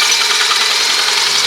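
Carbide-tipped pen mill trimming a wood pen blank with a brass tube, a steady loud whirring grind with a high hissing cut, continuous and close.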